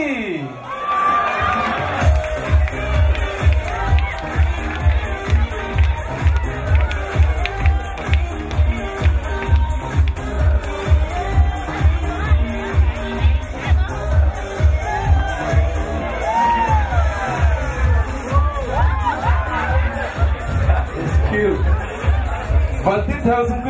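Wedding guests in San Jose clap and cheer for an introduced couple, a dense, steady crowd of applause with whoops and shouts running throughout, loud and close, with general chatter mixed in.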